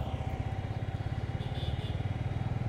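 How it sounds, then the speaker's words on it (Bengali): A maroon Royal Enfield Bullet 350 motorcycle being ridden on a Bangladeshi road, its single-cylinder engine thumping in a steady, fast, even pulse close by under wind noise. "বাংলাদেশের রাস্তায় চালাচ্ছি রয়্যাল এনফিল্ড বুলেট মেরুন।"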